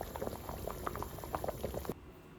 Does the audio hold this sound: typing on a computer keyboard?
no